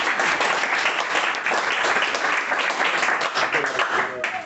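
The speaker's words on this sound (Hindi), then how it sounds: "अभी ये ताली इतनी अच्छी बजी" An audience at a Hindi poetry recital breaks into sustained, dense applause that stays loud and steady throughout, with a few voices mixed into the clapping.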